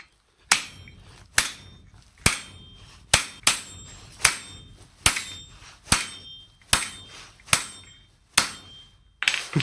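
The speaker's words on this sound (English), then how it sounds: "how about we give that a crack on the anvil then? So then face down going against the weld." Sharp metallic hammer blows strike a laser-welded steel test piece held face down on an anvil, about a dozen loud ringing impacts at a steady, slightly uneven pace, each with a bright clang that quickly decays.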